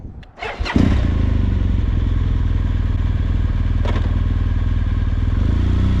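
A BMW R1200GSA motorcycle engine cranks with a brief starter whir, then catches and settles into a loud, steady, throbbing idle close by.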